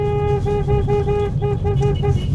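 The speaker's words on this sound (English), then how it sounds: "I start honking." A car horn honks repeatedly at a street rally, a series of short evenly spaced toots, loud and close, with crowd noise faintly underneath.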